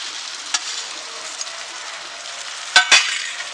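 Crisp fried baby shark fish pieces dropped into a biryani masala, a steady frying hiss with a soft clink early on and then a couple of sharp splashing thumps near the end, close and without talk.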